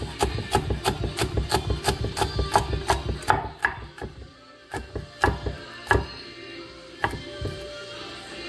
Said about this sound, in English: So this is how I chop it.